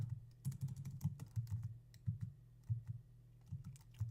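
Keys clatter on a computer keyboard while text is typed in Flash CS6, an uneven run of quiet, close clicks in short bursts.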